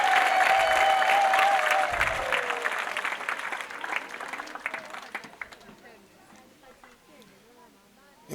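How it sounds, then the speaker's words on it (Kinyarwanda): A church congregation applauds during a prayer service, dense clapping filling the room at first and then thinning and fading out over several seconds, with a voice heard briefly early on. "Se wakomeye Imana amashyi"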